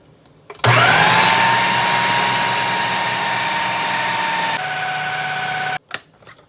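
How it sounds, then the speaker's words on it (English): A food processor blends soft boiled plantains into fufu. The motor kicks on abruptly, holds a loud, steady whine for about five seconds, dips slightly in pitch, then cuts off, followed by a brief clatter. "So you transfer into your food processor and watch the magic"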